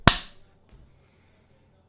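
A single sharp hand clap, close and loud, triggering the iClapper app on a Mac, followed by a short fading tail and near silence.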